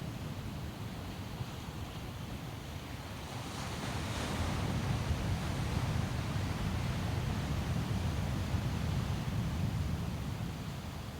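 Ocean waves wash steadily in a continuous broadband rush, swelling slightly louder midway and staying strong, with a light wind hiss over the surf and no voices.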